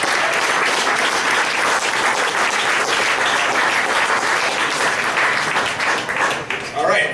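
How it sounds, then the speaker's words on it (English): Sustained dense applause fills a meeting room, loud and even throughout with a slight dip near the end, while a few voices mix into the clapping crowd. "One more round of applause."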